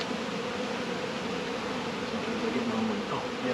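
Honeybees at an opened beehive make a steady, close swarm of buzzing, with individual bees droning past over a continuous hum and no talking.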